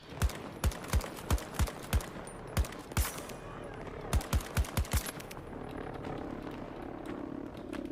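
Gunfire in the video game Battlefield 2042 rings out as single shots in two quick bursts of sharp, evenly spaced cracks, then fades into quieter background game noise.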